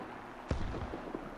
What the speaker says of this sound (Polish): Chociaż całkiem blisko wybuchają te peloty